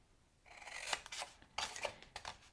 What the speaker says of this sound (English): So now as we go down the box, we're going to cut up to that second score line.